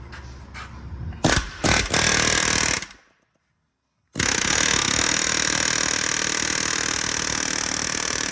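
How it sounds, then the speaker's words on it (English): A loud pneumatic air hammer rattles in rapid bursts against stuck rear differential side adjusters on a Subaru Crosstrek, cuts out briefly to near silence, then resumes as a steady, sustained hammering close by. "decided to get out the air hammer"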